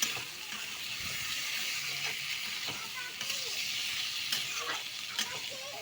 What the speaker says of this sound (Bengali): টমেটোগুলো দিয়ে আবার ভাজা ভাজা করে